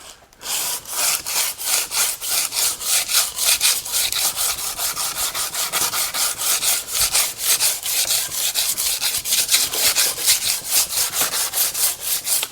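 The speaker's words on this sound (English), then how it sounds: "I'm going to use a sanding block and just explore where the levels are." A 36 grit sanding block worked by hand over the hammer-marked metal body of a 1937 Lincoln Zephyr barn find, with steady rhythmic back-and-forth rasping strokes, close and loud, with no talking.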